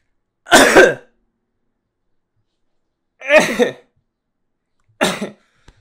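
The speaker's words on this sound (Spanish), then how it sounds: "Ay, qué tos. Esta tos me va a matar." A person coughs and clears their throat in three separate harsh bursts with quiet gaps between them, close and loud.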